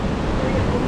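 Ocean surf on a wild beach in Phuket, Thailand, a steady broad roar of breaking waves, close and fairly loud, with wind rumble mixed in and no distinct individual break.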